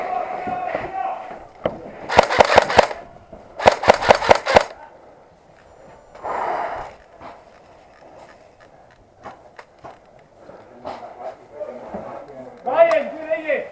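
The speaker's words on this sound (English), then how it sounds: "Needs some cover fire." Airsoft guns fire rapid bursts of sharp clicking shots during an outdoor airsoft game, in several clustered volleys and scattered single pops, while players shout and talk nearby.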